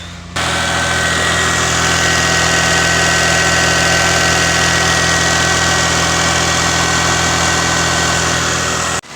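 A car engine idles steadily at a raised speed, a loud continuous hum with a faint whine, running alone without any talk.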